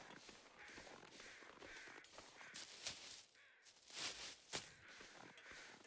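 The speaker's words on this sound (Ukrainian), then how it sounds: "Там літають ворони, це значить, що там є якийсь труп." Crows caw repeatedly at a distance over faint wind and a few crunching footsteps in the snowy wilderness of The Long Dark video game.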